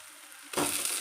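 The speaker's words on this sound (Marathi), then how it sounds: "आता आपली कारली भरलेली सगळी तेलामध्ये सोडायची बघा आपल्याला व्यवस्थित." Stuffed bitter gourds are lowered into hot oil in a pan, and after a quiet start a sudden, fairly loud sizzle erupts and carries on steadily to the end.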